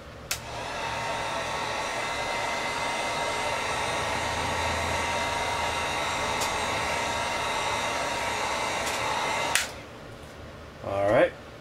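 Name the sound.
drying paint on a model car, likely with a hair dryer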